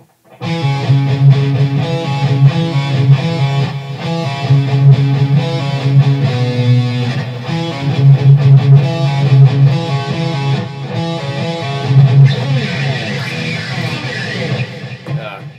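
A distorted electric guitar plays a steady, unhurried riff of repeated notes and slides, close and fairly loud, with no voices.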